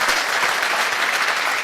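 Dense, steady applause from a seminar audience, many hands clapping at once in a continuous wash with no pauses.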